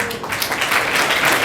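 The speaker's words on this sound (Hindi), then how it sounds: "जोरदार तालियां सबके लिए" Applause for science teachers being honoured at an award ceremony, a dense, steady patter of many hands clapping, fairly loud and filling the short stretch with no break.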